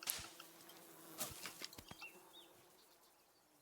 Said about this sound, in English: I just heard an insect go buzzing by